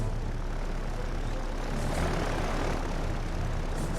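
Dauntless dive bombers drone overhead in the Victory at Sea Pacific game, a steady, loud propeller-engine roar that holds evenly throughout with a slight swell midway, no talk.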